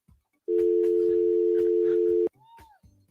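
Telephone dial tone on an open line, a steady loud tone that holds for nearly two seconds, then cuts off abruptly, with faint background noises before and after.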